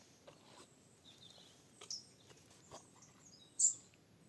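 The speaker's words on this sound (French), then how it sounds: "Un petit oiseau qui fait pluic." A small bird chirps in short, faint calls scattered through a quiet outdoor background, with one brighter, louder chirp near the end.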